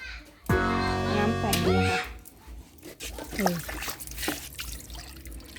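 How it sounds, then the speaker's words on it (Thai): Tap water trickles into a container during a home experiment with water-expanding gel beads, a steady thin stream running under the voices of an adult and someone talking. "เปิดน้ำนี่เอาน้ำมาใส่นี่"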